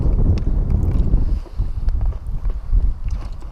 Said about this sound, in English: Oh yeah, really nice wind kicking in here.